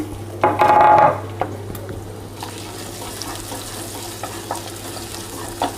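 Ginger sizzling in a pan for a honey chicken wing sauce, with a loud burst of frying and a scrape of stirring at first that settles into a steady low crackle.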